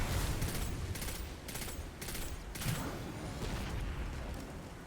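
Rapid bursts of primary weapon fire in Destiny, several short crackling volleys in quick succession, loud and close over a busy game background.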